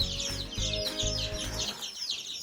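Speckled Sussex baby chicks peeping, rapid high cheeps crowding together in a steady chorus, near and fairly loud over low thumping noises.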